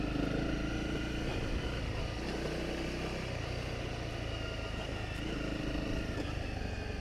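A Honda CRF250 Rally motorcycle rides on sandy dirt tracks across hills in South Australia's Mid North, its engine a steady, loud, continuous drone mixed with heavy wind rush and no talking.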